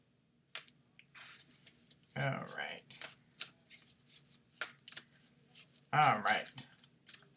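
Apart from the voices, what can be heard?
shuffling a deck of cards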